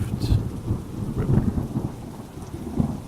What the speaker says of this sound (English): you guys can listen to the sound of the rain